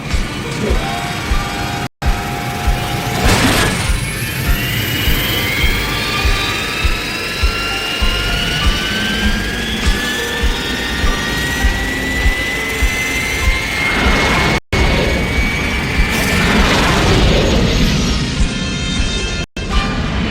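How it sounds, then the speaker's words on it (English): Veritech fighter jets from the animated series Robotech fly past in a loud roaring whine with rising and falling sweeps and whooshing passes, plus a few brief dropouts. "Those Veritech fighter engines are built on a reactor design."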